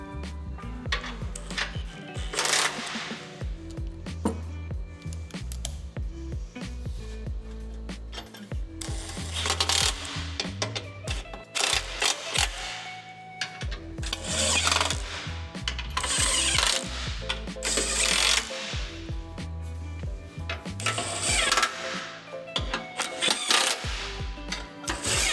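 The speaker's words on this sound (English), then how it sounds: "we'll go ahead and tighten all the bolts from back to front" Ratchet wrench cranking bolts tight on a 2024 Ford Ranger skid plate, repeated bursts of rapid metallic clicking with pauses between bolts, close and fairly loud.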